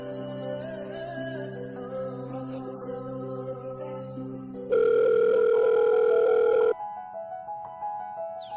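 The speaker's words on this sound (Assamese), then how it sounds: "ফোন এটাকে মৰা যাওক" A phone call rings out as a repeating electronic tone. A loud, steady burst in the middle is followed by softer tonal pulses, close and clear with no talking.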